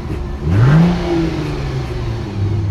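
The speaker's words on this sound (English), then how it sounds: "Here's what the Prowler exhaust sounds like." A 1999 Plymouth Prowler's exhaust revs once sharply up and falls back to a steady, throaty idle, heard close and with no talk.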